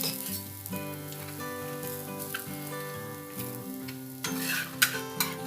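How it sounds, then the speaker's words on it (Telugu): Chapati roasting with ghee on a hot tawa, a steady soft sizzle with occasional crackles, heard faintly beneath background music and growing a little louder toward the end. "ఈ చపాతీని మంచిగా నెయ్యితో కాల్చుకోవాలి"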